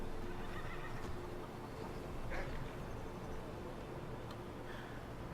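Horses in the video game Skyrim, a brief whinny rising out of steady outdoor ambience around the middle, with a fainter call near the end and soft hoof sounds.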